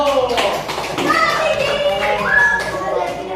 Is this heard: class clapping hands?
yes